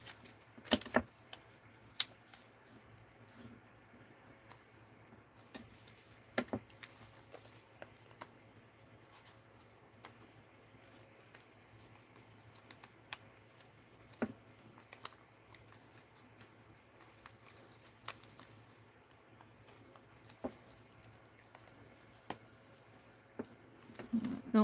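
Scissors cut paper during a mixed-media craft session, with scattered faint snips and rustles spread across a long stretch over a low background hum.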